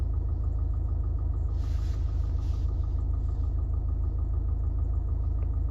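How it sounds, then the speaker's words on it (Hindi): Steady low idle of a 2025 Mahindra Thar Roxx MX1 engine heard from inside the cabin, a muted continuous hum with no revving, alone at a constant level. "तो फिलहाल अभी गाड़ी को मैंने चालू किया है और चालू करने के बाद इनर नॉइस कुछ ऐसा आता है।"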